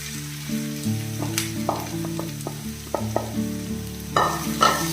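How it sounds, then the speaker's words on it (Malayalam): Marinated chicken sizzles and fries in a hot pan while being stirred, with steady crackling and occasional scraping clatters, close and alone without voices. "ഇനിയിപ്പോൾ നമ്മൾ മാറിനേറ്റ് വെച്ചിരുന്ന ചിക്കൻ ഉണ്ടല്ലോ അതൊന്ന് ഇട്ട് കൊടുക്കാം"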